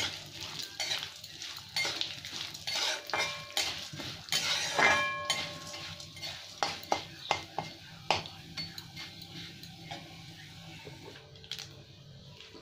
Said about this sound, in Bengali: এটাকে গ্যাসটাকে কমিয়ে দিয়ে ভালো করে ভেজে নেব।